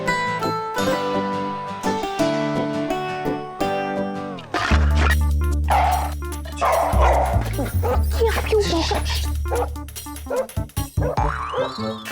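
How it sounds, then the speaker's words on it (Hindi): A dog barks and yips repeatedly under loud, busy music, with a springy boing-like effect mixed in. "ओंकार तुम्हें देख के और भौंक रहा है"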